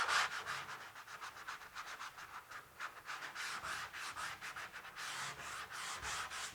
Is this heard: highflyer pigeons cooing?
no